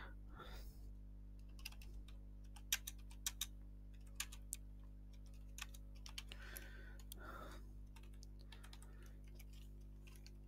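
Sharp, irregular keystrokes on a computer keyboard while HTML heading tags are entered, a run of distinct clicks over a steady low electrical hum, close and fairly quiet.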